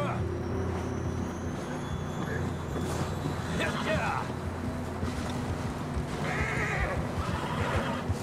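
A horse whinnies in the video game Red Dead Redemption 2 over a steady low engine-like drone, with a brighter neigh burst near the end; the sound is moderately loud and continuous.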